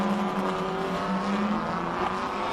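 A BMW race car at the Simola Hillclimb roars with a loud, sustained high-revving engine note, steady and close throughout, with no voices over it.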